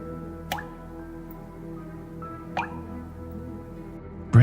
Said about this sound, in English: blood dripping down his chin